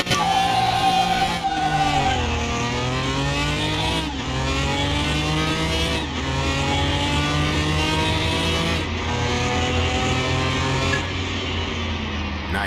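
BMW Pro Car in Car Mechanic Simulator 2021 launching down a drag strip, its loud engine climbing in pitch through repeated gear changes, each shift cutting the roar briefly before it rises again.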